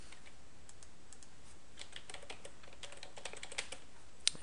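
Password being typed on a computer keyboard during SQL Server 2008 setup, a run of quick, light key clicks growing denser toward the end, close but soft, with no talk.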